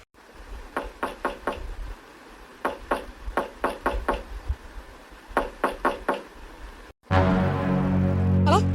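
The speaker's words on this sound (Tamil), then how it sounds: "நம்ம வீட்டு கதவை தான் யாரும் தட்டிட்டு இருக்காங்க போல இருக்கு" Knocking on a house door comes in several quick bursts of sharp raps, grouped with short pauses between them. A different, steady sound takes over near the end. No one speaks.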